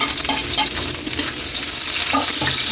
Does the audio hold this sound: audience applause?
no